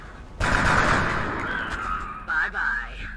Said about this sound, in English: Miss Editha, please shoot.